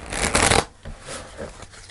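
A deck of tarot cards is shuffled in one quick riffling burst, followed by softer handling sounds up close.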